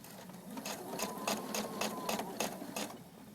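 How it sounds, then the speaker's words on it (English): A sewing machine stitching the corner of a fabric napkin makes quick rhythmic chattering bursts with a low motor hum beneath, close but fairly quiet, running steadily for a few seconds. "lower my presser foot, a few stitches forward, and then we'll back stitch to really get that end."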